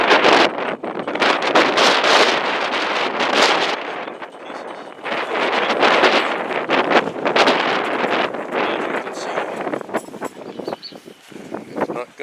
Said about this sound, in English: we've had an awful wind here all winter actually